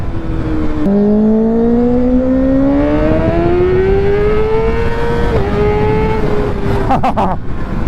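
A Kawasaki Ninja ZX6R motorcycle accelerates hard in third gear, its engine note climbing steadily in pitch over several seconds with heavy wind rush, loud and close, ending in a brief stutter.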